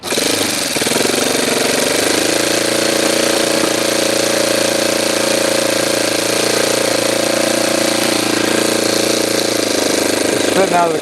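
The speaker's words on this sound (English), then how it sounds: "Spitting out of the carburetor again." Saito twin-cylinder model engine running continuously and loud, a rough buzzing drone with sputtering from the carburetor, with a person talking over it.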